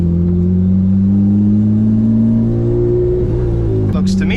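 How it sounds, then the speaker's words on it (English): Turbocharged 600-horsepower J-series V6 swapped into a Honda Civic, accelerating with a loud, steady droning engine note that climbs in pitch before a brief dip and shift near the end, heard from inside the car. "this has got to be one of the worst sounding motors of all time"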